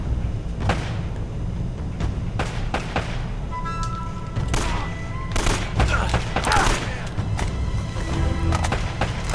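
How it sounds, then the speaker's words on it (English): M79 grenade launcher fire in the video game Uncharted: Drake's Fortune, heard as several sharp bursts and thumps scattered over a game soundscape of gunfire and effects. "there's an M79 guy shooting his ammo at us."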